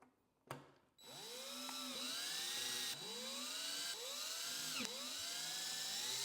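A cordless drill drives a Rizoma bar end protector into the handlebar of a 2025 Ducati Panigale V4, its motor whining loudly and steadily in close, repeated rising bursts with brief pauses between.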